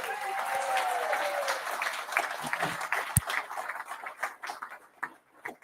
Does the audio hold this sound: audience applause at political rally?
yes